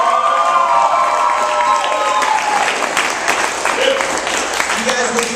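Loud audience applause and cheering at a poetry slam haiku competition, with whoops and shouts over dense clapping that gradually thins out.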